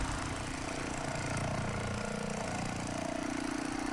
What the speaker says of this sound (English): You rev it and it sounds like a chainsaw.